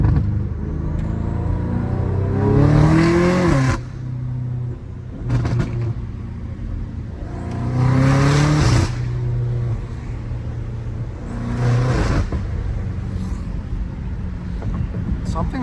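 A straight-piped BMW M5 Competition drives at night with its engine revving hard in repeated rising surges, each a loud raw roar that eases back to a deep cruising rumble.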